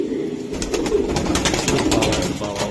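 Racing high-flying Giribaz pigeons coo softly on a rooftop, a few low, rolling coos close by with faint background murmur.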